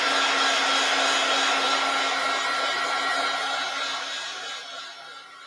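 A hair dryer blows steadily on a journal page, a loud continuous whirring hiss with a low hum that eases slightly toward the end.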